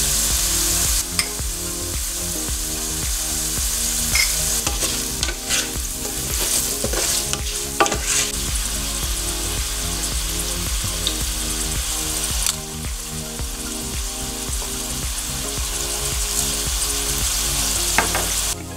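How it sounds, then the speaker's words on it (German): Potatoes coated in turmeric fry in a pan for an Indian vegetarian curry, giving a loud, steady sizzle with frequent scrapes and clinks of a spoon stirring throughout. "Erstmal brate ich die Kartoffeln für 5 Minuten an"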